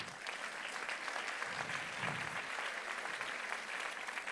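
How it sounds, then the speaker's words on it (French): Steady applause from a conference audience, a continuous dense patter of clapping that holds evenly throughout without any voices. "Je pense que vous pouvez vous applaudir."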